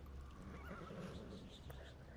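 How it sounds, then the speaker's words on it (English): A horse whinnies near a loading horse and cart in the virtual-reality game Skyrim VR, a loud neigh over low rumbling with hoof clatter, and a voice talks alongside. "It's the horse and cart we're loading in."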